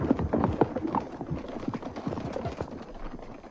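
Horse gallops off in a German radio play, a busy run of hoofbeats that fades slightly as it goes, layered with rustling and other effects and no talk.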